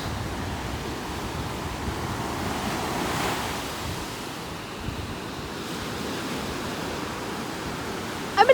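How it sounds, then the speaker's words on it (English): Large ocean waves roll and crash continuously on a beach at Belmar on a foggy day, a steady broadband surf roar that swells and eases slightly, with wind buffeting the microphone and no voices. "Oh, there's the humongous wave."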